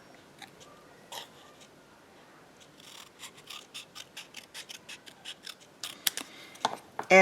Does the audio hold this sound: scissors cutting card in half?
yes